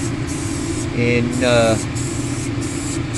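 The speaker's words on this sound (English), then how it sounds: "But what I do is we'll spray it over, get a nice coat on it," Krylon Fusion spray paint hisses from an aerosol can in short, broken bursts while coating an O scale model building, with a brief voice partway through.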